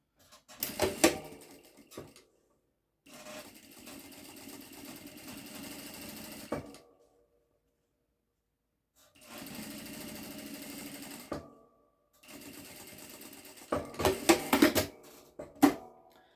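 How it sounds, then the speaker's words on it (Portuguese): A sewing machine runs a safety stitch along the edge of a fabric cosmetic bag, several close bursts of whirring and clattering separated by silent pauses, with a few sharper rapid clicks near the start and end. "Vamos fazer uma costurinha de segurança bem na bordinha"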